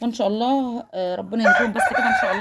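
A rooster crowing among chickens in a backyard coop, a loud, close, drawn-out crow followed by more calls, with someone talking over the birds.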